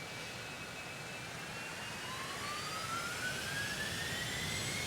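Citation X business jet engines in X-Plane 12 roar steadily with thrust reversers deployed, a loud broadband rush with rising whine tones building slightly over the span, no talking.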